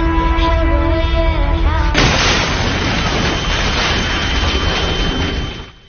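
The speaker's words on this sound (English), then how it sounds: "The piece recreates a real explosion in Aleppo, Syria, using footage and sound from the actual event" A sudden loud blast of a real explosion in Aleppo, Syria, cuts through a sustained tone, followed by a long, roaring wash of debris and rumble that fades at the end.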